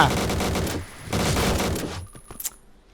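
Rapid gunfire from a weapon in the shooter game Point Blank, bursts of shots in two sustained volleys separated by a brief pause, then a few sparse single shots, with faint talk mixed in.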